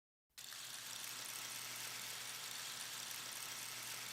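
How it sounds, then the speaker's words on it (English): A steady, dense rushing hiss like pouring grains or rain, starting abruptly and continuing evenly, with a faint low hum underneath. "Got this sound here, which is kind of like a rain stick sound"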